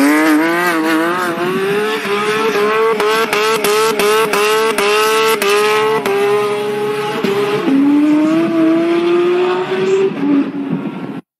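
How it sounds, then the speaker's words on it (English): A sports car engine revs hard and loud as the car spins donuts, its pitch rising and falling with short bursts of tire squeal. It ends in a long, climbing acceleration pull. "Acceleration after the donuts is very nice."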